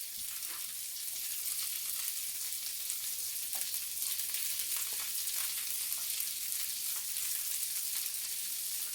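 Four tablespoons of lard melting in a hot pan for a home-cooked Sunday breakfast, giving a steady, close, bright sizzle and crackle with occasional sharper pops, continuous throughout with no voices.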